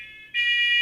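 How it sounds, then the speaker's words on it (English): A household smoke detector sounds a continuous high-pitched electronic alarm tone, briefly dipping before resuming louder and steady, with no talk over it. "Our smoke detector just went off."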